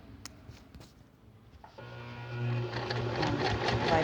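A sewing machine fitted with a zipper foot stitches fabric for a lab coat holder, starting after a few light clicks and then running in a steady close mechanical whir that grows louder.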